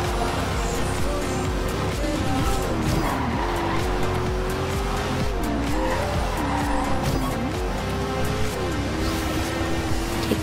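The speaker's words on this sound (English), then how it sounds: "Ooh, look at that drift." A car drifting in the Forza Horizon racing game, its tires squealing in a long wavering whine over a steady engine roar that stays loud and close throughout.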